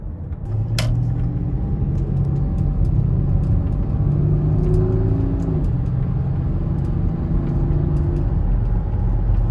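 An Audi Q7 with over 500,000 km accelerating on the road, heard from inside: a deep steady engine rumble and tire roar rising in pitch as it gains speed, with occasional small clicks and knocks.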